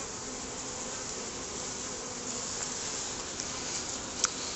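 Honey bees buzz in a steady, dense hum throughout a top bar barrel hive inspection, heard close and continuous with no talk.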